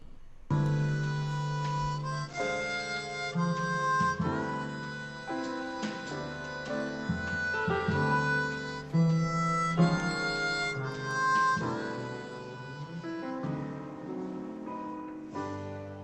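A live-streamed performance of "With a Little Help from My Friends" plays steadily, a voice singing over accompaniment that sounds thin and compressed, as if coming through an online call.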